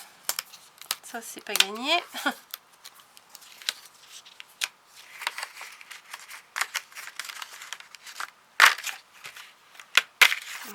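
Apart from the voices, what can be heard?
tearing off pre-cut diamond painting card backing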